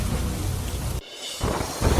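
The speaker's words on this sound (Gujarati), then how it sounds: "ગ્રામ્ય વિસ્તારોમાં પણ ગાજવીજ સાથે વરસાદ તૂટી પડ્યો" Heavy rain roars steadily, cuts out abruptly for a moment, then returns with a low rumble of thunder beneath the downpour.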